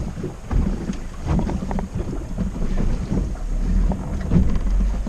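Wind blows over a small fishing boat on open water during fall fishing. Loud, uneven gusts buffet the microphone with deep rumbling, rising and falling continuously. No one speaks.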